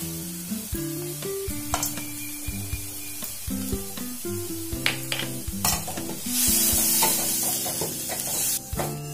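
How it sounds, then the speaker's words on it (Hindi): Chili, coriander and turmeric powders fry in a pan as a spice masala, hissing steadily under repeated scraping strokes of a spatula, with the sizzle swelling louder near the end. "मसाला भूज लेलहुँ, भुजा गेल।"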